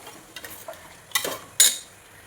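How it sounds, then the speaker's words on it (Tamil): Biryani ingredients are stirred in hot oil for country chicken biryani, with several sharp scraping clatters of the spoon in the pan over a soft sizzle and no voices. "நல்லா கிளறி விடலாம். எண்ணெயில்"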